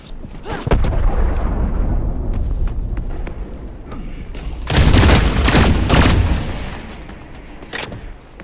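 A grenade blast in The Cycle: Frontier, heard as a loud rolling boom about midway that swells and tails off, amid scattered gunfire and other thuds earlier on.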